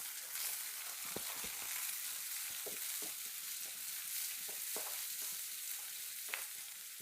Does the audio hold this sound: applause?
no